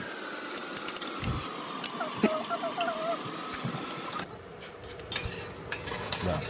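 Prawns and masala roasting in a pan sizzle softly while a spoon scrapes and clinks against the metal in irregular strokes, with a brief higher whine partway through.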